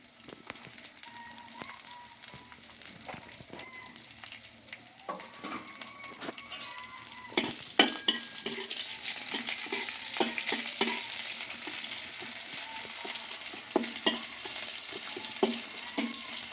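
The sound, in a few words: onion and garlic frying in oil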